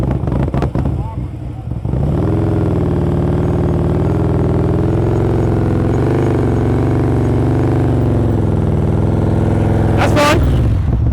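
Motorcycle engine held under steady load during slow-speed riding practice among cones, a continuous low hum with harmonic tones that rise and fall slightly, with a brief burst of louder noise near the end.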